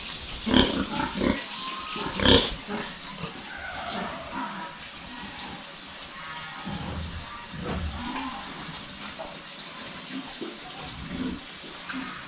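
Pigs in a farm pen, young piglets born late, with scattered grunts and squeals close by, a couple of louder bursts early on over a steady low background.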